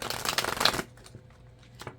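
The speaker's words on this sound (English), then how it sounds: "One more shuffle." Tarot cards being shuffled by hand, a dense papery riffle of rapid flicks lasting under a second, then a few soft scattered card taps and slides, close and quiet with no talk.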